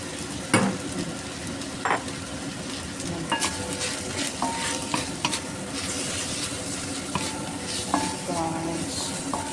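Leftover rice and egg frying in a pan for fried rice, a steady sizzle under repeated scraping and stirring with light metallic clinks of a utensil against the pan.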